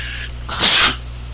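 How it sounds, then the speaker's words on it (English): A single sharp sneeze, loud and close, bursting out briefly over a faint steady background hum. "I had to sneeze."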